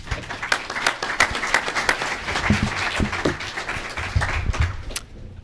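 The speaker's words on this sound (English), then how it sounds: "Let's give him a hand." An audience at an energy conference session applauds a speaker, giving dense steady clapping for several seconds that thins out toward the end. It sounds moderately loud, as heard from within a hall.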